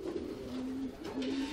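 Pigeon cooing at a loft: a soft, low, close coo repeated in two or three rolling phrases, with no talk.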